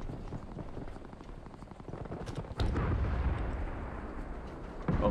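Artillery fire in War Thunder around an AMX-13-90 tank: a sharp, heavy blast rolls into a long rumbling tail, preceded by faint distant shots and followed by another hit at the end.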